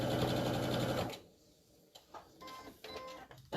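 A sewing machine runs steadily as it stitches along the bottom edge of fabric for a hanging storage pod, a loud continuous whir for about a second before it stops, leaving soft handling clicks.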